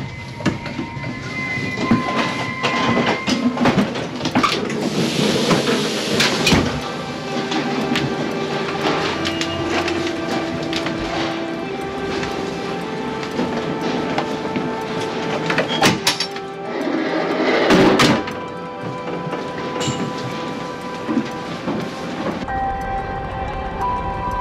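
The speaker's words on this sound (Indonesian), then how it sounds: "kita sudah tiba di stasiun Kiev" A train rolls into Kiev railway station, with loud, sustained rumbling, squealing tones and metallic clanks and bangs from the wagons as it slows over about twenty seconds.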